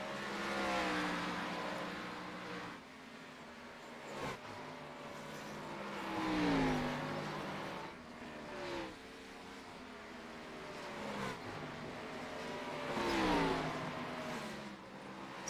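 Gen6 Cup Series race cars racing at Bristol: engines rise and fall in pitch as cars rev through the laps, with several loud swells over a constant roar of engines.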